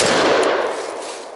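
A single sharp gunshot from a 7.5-inch short-barreled AR-15 rifle fired at a target outdoors, a loud close blast whose echo trails off over about a second.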